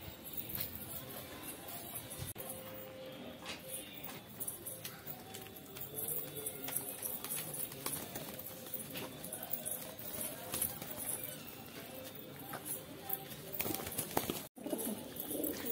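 Pigeons coo softly nearby in low, repeated murmurs while feeding from a hand, with faint rustling and scattered background noise around them.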